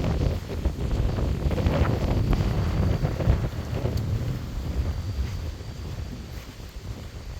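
Wind gusting across an open prairie trail at Buffalo River State Park, a loud rumbling buffet on the microphone that eases slightly toward the end.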